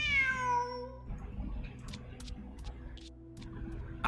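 A cat meows in the video game Genshin Impact, a short falling call at the start over the game's steady music and ambience, which continues alone afterward.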